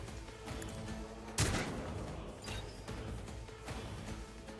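Gunfire from a ranged attack in Warhammer 40K Rogue Trader: a loud crashing burst of shots over a busy rumbling battle backdrop, followed by further softer volleys.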